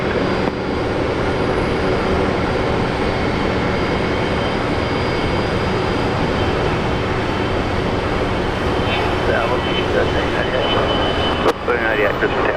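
An airliner lands on runway 19 right at Brisbane Airport, a steady, loud broadband engine roar that holds for the whole stretch, with voices talking over it.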